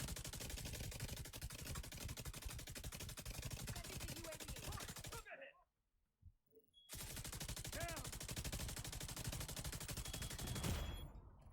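LMG minigun fire in the shooter game The Division 2, a loud continuous rapid stream of gunshots that cuts out briefly mid-way, then resumes at full intensity.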